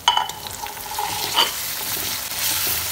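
Spice paste of cardamom, black pepper, cloves, cinnamon, ginger and cumin being stirred in a pan for beef curry, with a steady sizzle and a few scraping strokes, close and fairly loud.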